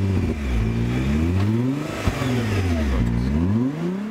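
A 545-horsepower twin-turbo V6 in a Nissan GT-R revs hard, with rising and falling engine harmonics that swell and sweep through several climbs over about four seconds, loud and close with no talking.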